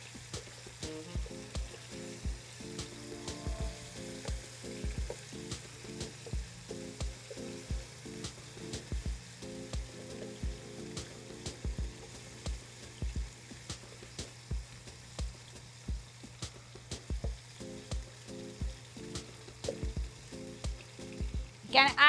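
Pork sizzles and fries in a pan for stew while a utensil stirs it in steady, repeated scrapes and clicks; the sizzle stays moderate and continuous throughout, with no talking.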